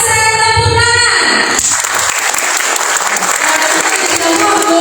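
Audience at a job fair CV workshop breaking into a burst of hand clapping that cuts in after a speaker's voice and continues densely and loudly to the end.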